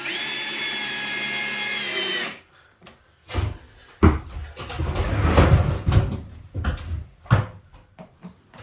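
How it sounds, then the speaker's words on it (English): A power drill whines steadily, then stops; bursts of clunking and scraping follow as screws are driven into loft stair boards and wood is handled nearby. "Now I'm drilling in my screws below the face of the board"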